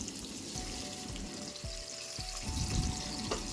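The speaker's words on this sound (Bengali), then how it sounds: "তেল গরম হলে তেলের মধ্যে আগে থেকেই নুন হলুদ মাখিয়ে রাখা ভেটকি মাছ হালকা করে ভেজে নেব" Bhetki fish pieces rubbed with salt and turmeric fry lightly in mustard oil, giving a soft, steady sizzle at low level with a few faint clinks from the pan.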